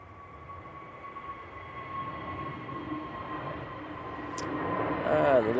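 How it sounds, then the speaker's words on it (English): A KLM Airbus A321neo jet takes off at a windy Manchester Airport, its distant steady engine whine and low rumble swelling louder toward the end, with a voice talking over it. "KLM A321 Neo now going out to Amsterdam"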